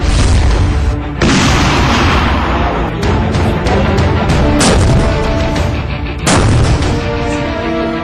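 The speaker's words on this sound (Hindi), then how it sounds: "अभी आपने जो मिसाइल फायर देखा वो T-90 टैंक से था" A T-90 Bhishma tank fires missiles in a string of loud, close booming blasts, each a sharp broadband burst with a rumbling tail. Four or five explosive reports arrive at uneven intervals with no pause in the heavy noise between them.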